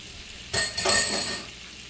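Butter and garlic hit a hot pan and sizzle in a short burst that swells for about a second and then fades, heard close with no voices.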